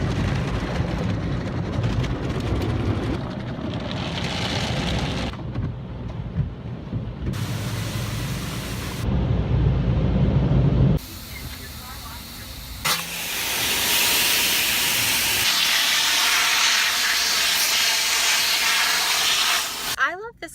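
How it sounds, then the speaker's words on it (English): An automatic car wash blasts and hisses water over a car in long loud spells, changing character between stages, with a voice speaking over part of it. "Don't you just love the car wash?"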